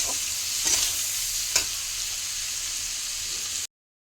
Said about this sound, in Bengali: এখন এটা ভালো করে ভাজবো।